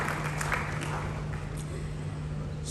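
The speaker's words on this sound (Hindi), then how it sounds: "तालियों के साथ हम सभी पुरस्कार विजेताओं का मनोबल बढ़ाएं" Audience applause for award winners at an award ceremony of the World Hindi Conference in Nadi, Fiji, a steady, somewhat distant wash of clapping with a low hum beneath, continuing without pause.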